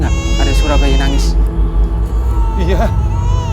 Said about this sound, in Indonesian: Kamu dengar nggak ada suara bayi nangis?